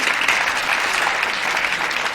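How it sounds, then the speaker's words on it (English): An audience applauds a sponsor, Nate Wade Subaru, at a TreeNote event, a steady dense wash of clapping that holds at an even level throughout. "Yes, that's a clap for them."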